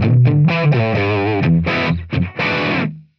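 A dry, distorted electric guitar plays through a raw Tonex tone model with no gate, compression or reverb, loud and up close, ringing notes and short chord stabs that end abruptly in silence.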